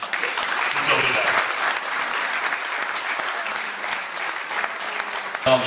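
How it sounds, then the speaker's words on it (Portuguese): An audience at a folk group event in Madalena in the Azores claps steadily with many hands, loud and sustained, with faint voices beneath and a brief thump near the end. "para todos eles peço uma salva de palmas"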